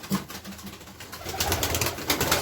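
Domestic pigeons in a loft as birds are let out to fly, with soft cooing and fluttering close by, continuous and fairly loud over a light background hum.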